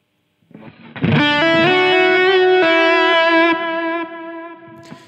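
Electric guitar played through a Line 6 Helix with the delay placed after the reverb: a loud sustained note rings out with reverb, then softens into trailing echoes before a brief pluck at the end.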